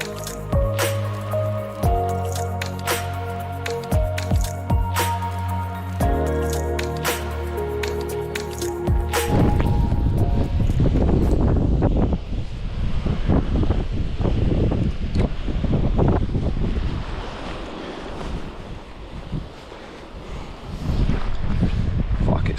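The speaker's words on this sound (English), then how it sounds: "So windy." Strong wind buffets the microphone on a pier at night during squid fishing, with rain and dripping sounds and a brief voice.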